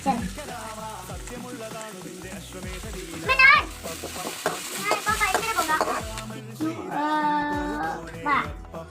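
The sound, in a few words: stirring and frying ingredients in pan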